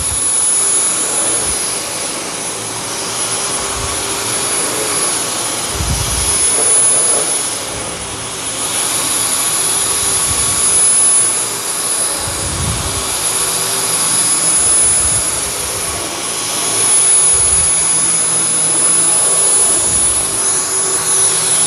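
Dyson V10 cordless vacuum cleaner working over a heavily soiled carpet, a loud continuous high-pitched motor whine close up, with intermittent low thumps as the head moves across the floor.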